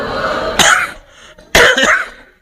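A man giving a religious lecture in the Bugis language, troubled by a cough for half a month, coughs twice, loudly and close up, with a short pause between the bursts.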